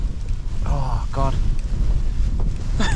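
Strong, freezing winter wind buffets the microphone at a wild camp at around minus ten degrees, a steady low roar that fills the whole clip, with brief voice-like tones rising through it.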